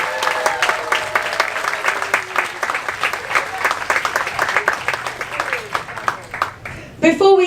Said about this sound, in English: a nice big round of applause for Francisco